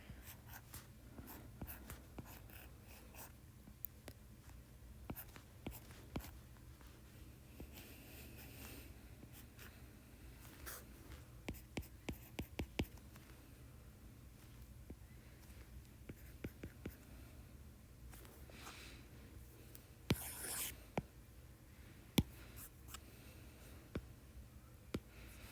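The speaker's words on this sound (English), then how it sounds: "I'll draw the structure of ibuprofen here." A pen scratches across paper while a chemical structure of ibuprofen is drawn by hand, a faint, close and intermittent scribbling with small taps and pauses, with no one talking.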